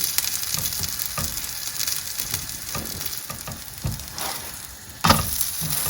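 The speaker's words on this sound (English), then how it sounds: "The sound of that sizzle." A spinach flatbread stuffed with potato and paneer sizzling loudly in a hot pan, a continuous crackling hiss with occasional sharper pops and a scrape near the end.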